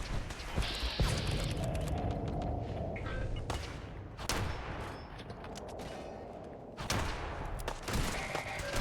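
Gunfire in the video game Fallout 4 during a firefight with Rust Devils and robots, dense loud bursts of shots and mechanical clatter running throughout.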